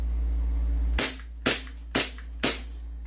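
An airsoft Glock 17 pistol fires four sharp, evenly spaced cracks about half a second apart, loud and close, after a low steady hum.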